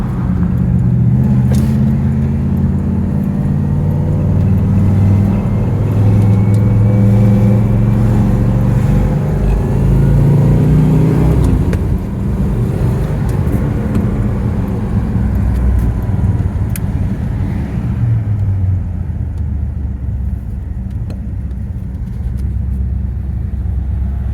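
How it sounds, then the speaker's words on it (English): A 1968 Pontiac GTO rumbles loudly through heavy traffic, its engine a steady low drone that eases and shifts as the car crawls along, with no talking. "so I can get through this heavy traffic"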